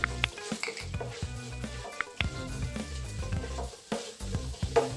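Cumin seeds frying in oil for gongura chutney, a soft sizzle under intermittent stirring and scraping, with a few light knocks of a utensil against the pan.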